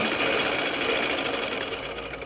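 Sewing machine stitching a gents shalwar, a steady dense whirring run that holds near and fairly loud throughout with no pauses.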